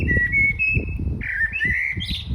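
A blackbird in Essex sings a clear, flowing whistled phrase resembling an eighties hit song, over a steady low background rumble, the melody rising toward the end.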